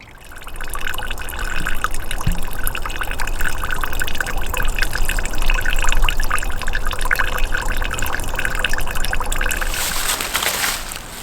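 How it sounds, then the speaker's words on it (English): Water trickles and pours into the cup of a pre-filter used for straining sediment, a continuous close splashing fill with fine dribbling detail that brightens near the end. "the process of collecting for my pre-filter will take a little while to fill up the cup"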